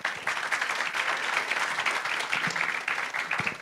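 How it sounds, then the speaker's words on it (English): A round of applause from a tourism forum audience for a professor's presentation, dense and continuous clapping filling the room at a strong, even level from start to finish. "let's give a round big applause once again to Professor Chong"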